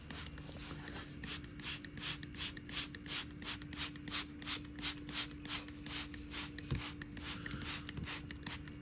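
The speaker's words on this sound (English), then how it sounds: "we're just going to continue spraying." Repeated short hissing bursts from a spray bottle wetting a worm bin, in a steady rhythm, close by, over a constant low hum.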